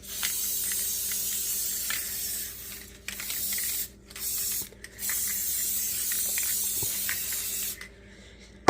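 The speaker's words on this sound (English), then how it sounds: "I'm going to give it a spray" An aerosol sealant can hisses in long continuous bursts with a few brief pauses, a broad steady spray noise close by, spraying a diamond painting mounted on canvas.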